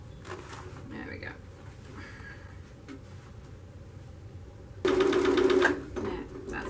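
A sewing machine stitches the side of a boxed cushion, a close, loud burst of rapid even needle pulses lasting about a second near the end, with a person talking quietly before it and fainter machine whirring.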